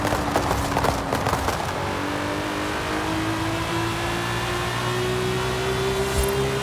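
Italian exotic car engine revving hard in Forza Horizon 5, a loud sustained drone whose pitch climbs steadily as the car accelerates, with a rougher, busier start easing into a smooth rising whine.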